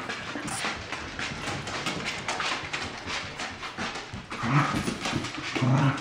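A Cardigan Welsh Corgi puppy pants rapidly close by, with brief whimpers and scrabbling movement, growing louder toward the end.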